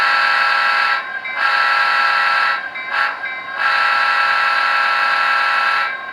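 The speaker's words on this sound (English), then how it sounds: "a press of a single button to create a grade crossing sequence, which is the familiar 2 longs, a short, and a long" Soundtraxx ECOnami model railroad diesel sound decoder sounding a multi-chime diesel horn in a grade crossing sequence: two long blasts, a short one and a final long blast, loud and close with no talking.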